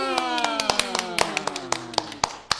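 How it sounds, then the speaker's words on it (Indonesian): Hand clapping on a live Indonesian talk show, a string of sharp individual claps in an uneven rhythm, close and crisp, beneath ongoing speech and a sustained musical tone. "Tepuk tangan"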